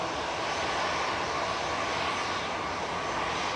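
A SunExpress airliner arriving from Dalaman touches down at Manchester Airport, heard as a faint, steady distant jet rumble and hiss in the background for a few seconds.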